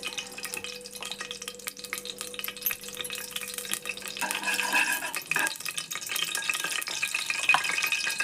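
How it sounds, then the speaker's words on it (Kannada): Oil and ghee heating in a pan for kara pongal, a soft crackling sizzle with scattered pops that grows denser and louder partway through, close up and with no talk. "ಈಗ ಎಣ್ಣೆ ಹಾಕೇನ್ರಿ ಈಗ ತುಪ್ಪ ಹಾಕೊಂಡ್ರಿ"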